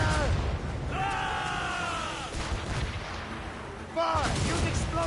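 Ship cannons fire in the Assassin's Creed Rogue video game, with booming blasts and rumble mixed under loud shouting crew voices.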